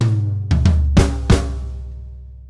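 Drum kit fill with accented final notes: four or five quick hits, the last two louder and stressed, followed by a long ringing decay with no voices.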